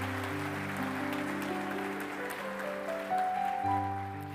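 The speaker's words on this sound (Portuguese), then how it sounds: "dê uma salva de palmas para o Senhor." Church congregation clapping during a sermon, a soft, scattered patter running under sustained keyboard chords that dominate the sound.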